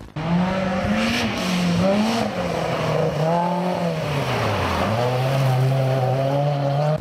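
A Citroën BX4 TC Group B rally car at full throttle, engine note rising and falling as it shifts through gears, loud and close with a harsh, continuous roar and possible tyre scrabble.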